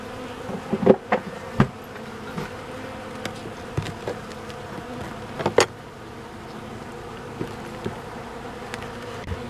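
A steady drone of honeybees buzzing close by, with a few louder passes and soft knocks punctuating the hum.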